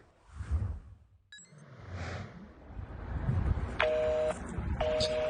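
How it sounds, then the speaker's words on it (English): An electronic telephone busy signal sounds in two steady bursts with a short gap, following a whoosh and a brief beep, over low background noise, on a 911 call. "911 calls going to busy signals."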